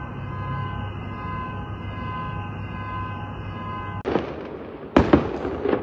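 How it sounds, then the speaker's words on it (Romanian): Fireworks going off at midnight, two sharp bursts near the end following a steady tonal hum, sounding at a moderate distance outdoors. "Aceste artificii probabil sunt pentru faptul că hoții au fost prinși"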